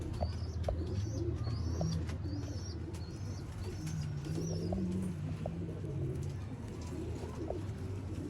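Pure Ferozpuri breeder pigeons coo softly in low, repeated rolling calls over a steady background hum, with occasional higher chirps from other birds nearby and no talk.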